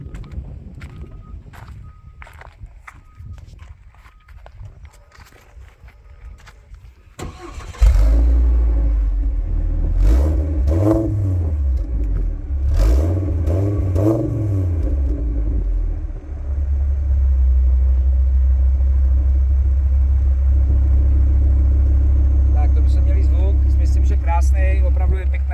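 A Hummer H3's 3.5-litre Vortec engine cranks and starts about a third of the way in, then revs up and down several times before settling into a loud, steady rumbling idle, heard near the exhausts.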